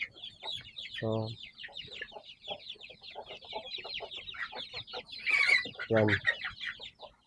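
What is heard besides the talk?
giant chickens clucking in a yard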